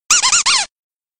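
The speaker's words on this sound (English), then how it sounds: "Find a block that sounds like a rubber ducky." A rubber ducky squeaks four times in quick succession, loud and close, with no other sound around it.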